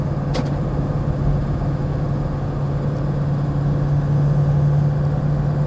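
A 2000 Ford Excursion XLT with a 7.3L Powerstroke diesel, 4WD, cruising a highway into a headwind, heard from inside as a steady low engine drone and road rumble with a constant hum throughout.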